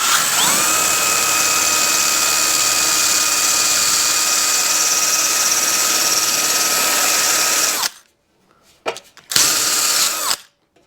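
A power drill with a 1/4 inch bit bores out fasteners on a Yamaha 250MX frame, a loud sustained whine at steady pitch that cuts off abruptly, followed by a brief second burst after short pauses.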